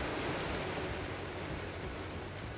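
Heavy rain pours down outside a garage, a dense, steady roar of broadband hiss with low rumble, constant and loud throughout with no talking.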